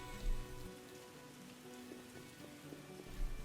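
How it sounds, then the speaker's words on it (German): Rain falling outside in the video game The Witcher, a faint steady patter under a low tonal hum, with soft low thumps near the start and end. "Und es regnet immer noch draußen."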